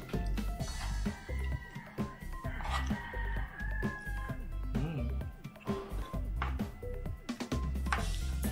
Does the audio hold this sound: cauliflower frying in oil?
no